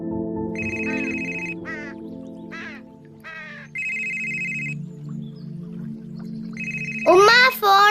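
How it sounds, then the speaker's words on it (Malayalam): A mobile phone rings with a bright, quacking-style ringtone in short repeated bursts and pauses, loud and close, before a voice breaks in at the end. "ഉമ്മ ഫോൺ അടിക്കണേ."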